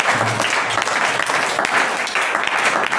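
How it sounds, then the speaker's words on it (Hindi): A crowd at a Samta Sainik Dal gathering performs trishran clapping, a rhythmic 1-2-3 pattern, in honour of a guest. The applause is loud and dense throughout, with voices faintly mixed in. "मोहर सिंह जी के सम्मान में त्रिशरण ताली बजाएंगे"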